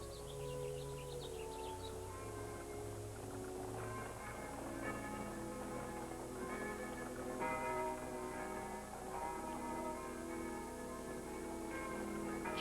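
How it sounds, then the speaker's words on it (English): Several church bells ring out in overlapping, sustained tones, with steady resonant strikes layered over one another throughout. "Church bells. A little different sound, maybe."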